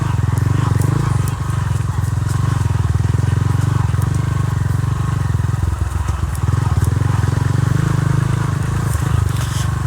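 A motorcycle putters steadily along a rough, grassy trail on a Pampanga bypass road project, its engine a loud, close, continuous drone with rattling and clattering over the uneven ground.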